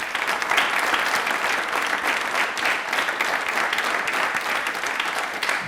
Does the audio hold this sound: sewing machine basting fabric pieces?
no